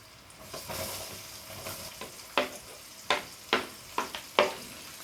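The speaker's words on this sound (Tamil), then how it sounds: "வெங்காயம் நல்லா கோல்டன் ஃப்ரை ஆகிற வரைக்கும் நம்ம வதக்கி விட்டுட்டே இருப்போம்." Finely chopped onions sauté for Indian-style macaroni, crackling under a low sizzle while a spatula scrapes and taps the pan in sharp, irregular strokes close by.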